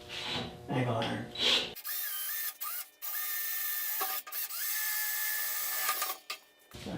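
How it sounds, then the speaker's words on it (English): A drill with a standard 1/4 inch bit bores through pre-drilled holes in angle iron for a band saw extension table. A steady high whine runs in several close bursts with short pauses, after a moment of talking at the start. "Use a standard 1/4 inch bit again, drill into the same holes that I put in the angle iron"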